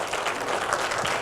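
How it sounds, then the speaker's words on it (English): Applause from an audience at a government education planning session, a dense wash of clapping that holds steady and fills the brief moment. "Give her a round of applause."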